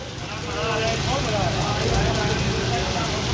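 Rain falls steadily in Lahore, a close, continuous hiss that swells after the first half second and holds.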